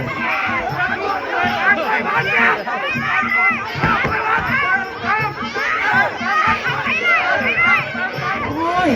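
A loud, dense crowd of supporters yells and cheers nonstop at a fistfight between women, with shrill children's voices and shouting mixed into the steady roar close by.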